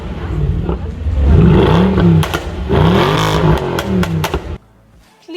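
A tuned Mercedes-Benz C63 AMG engine revs loudly and close by in a few rising and falling bursts with some clatter, then cuts off abruptly near the end.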